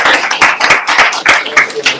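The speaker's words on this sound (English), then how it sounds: "Okay, round of applause" Applause rings out loud and close at the end of a Greg Lassiter interview, a dense patter of many hands clapping that swells and dips in quick uneven bursts.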